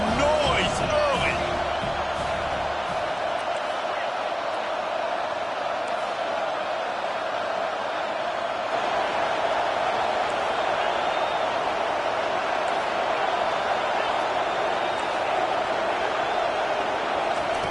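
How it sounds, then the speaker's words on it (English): College football stadium crowd roars in a dense, constant wash of noise with scattered thumps and shouts, loud and steady throughout, while a commentator's voice talks over it. "This crowd bringing the energy and noise early."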